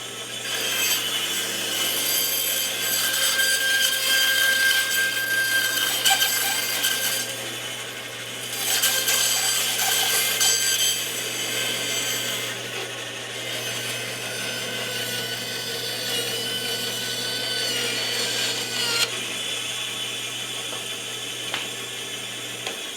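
Hand sawing of logs in the woods for snowshoe making, a steady continuous rasping of the blade through wood lasting the whole stretch, close and fairly loud with slight pauses and shifts in stroke.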